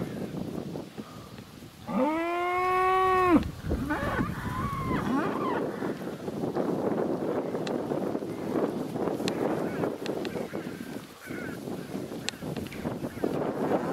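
Cattle being herded in a village, one loud drawn-out moo lasting over a second, then livestock sounds, wind and people talking in the background.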